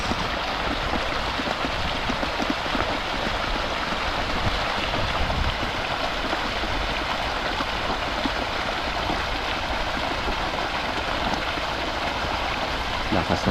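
Strong, steady rush of water from an irrigation hose watering newly planted calamansi trees, a loud continuous broadband flow throughout with no pauses.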